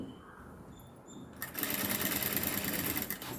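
A sewing machine stitching round neck piping on fabric starts up after a quiet moment and runs steadily at close range, a continuous mechanical whir with no talk over it.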